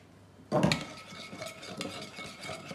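A spoon stirs miso sauce for a sea bream dish in a bowl, starting with a sudden scrape and clink, then continuing as soft, steady scraping and clicking close by.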